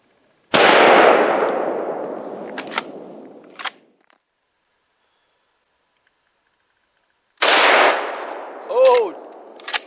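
Two loud, close rifle shots from a Winchester 1895 lever-action at an outdoor range, each a sharp crack with a long decaying boom, separated by a few seconds of silence, with a brief clack and a faint voice after the second.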